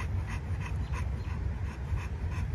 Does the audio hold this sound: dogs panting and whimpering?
yes